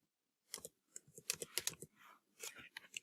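Keys tapped on a computer keyboard while entering a formula, a quick uneven run of soft close clicks in bursts with brief pauses, quiet and dry.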